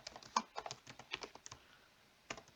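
Code being typed on a computer keyboard during a programming lesson on loops: a close, irregular run of crisp key clicks with brief pauses, no voices.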